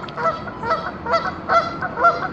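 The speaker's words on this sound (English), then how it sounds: "And the noisy gooses in here." A flock of geese at a pond in Poinsett State Park, South Carolina, honks over and over in uneven bursts, fairly close and steady, with no one talking.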